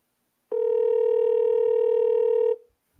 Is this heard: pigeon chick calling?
no